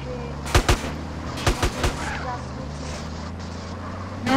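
Several sharp gunshots crack in short pairs and clusters from a shootout in the video game GTA San Andreas Multiplayer, over a constant car engine drone, with a vehicle revving louder at the end.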